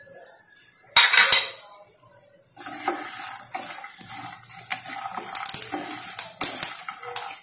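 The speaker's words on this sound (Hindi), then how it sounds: "मैं मखाना को भूनूंगी" Makhana (fox nuts) roasting in a spoonful of oil in a pan, heard as sharp metallic clatters of a spoon against the pan with a burst of rattling early on, then repeated scraping and knocking with a faint hiss underneath.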